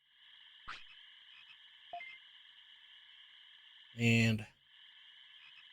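A toad croaks in the 1999 PlayStation game Digimon World 1: one loud, buzzy croak sounds in the middle over a steady electronic hum, with a couple of brief clicks earlier.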